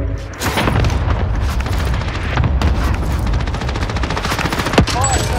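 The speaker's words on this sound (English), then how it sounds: "Cluster strike is active." Cluster airstrike explosions rumble in Call of Duty: Modern Warfare, a dense run of booming blasts and rattling fire that fills the scene loudly and steadily, with one sharper crack near the end.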